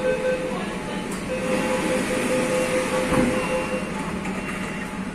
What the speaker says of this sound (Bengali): ট্রেনটা এখনই বেরিয়ে যাবে।